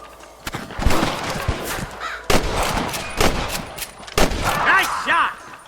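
Gunshots from Red Dead Redemption, the Western shootout game: several sharp, loud cracks spaced across a few seconds, with crowing caws and background voices mixed in.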